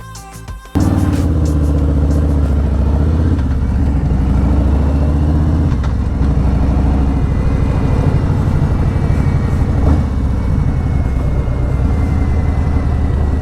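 Motorcycle engine running steadily while riding along a rural Texas Hill Country road near Luckenbach, a loud continuous low rumble with slight rises in pitch, no voices over it.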